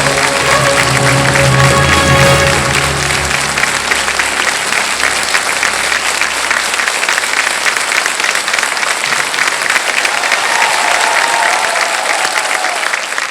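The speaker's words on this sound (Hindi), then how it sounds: "ताली सब लोग बजा रहे हैं" Studio audience on the KBC quiz show breaking into loud, sustained applause that holds steady throughout, with a denser burst near the start and no talk over it.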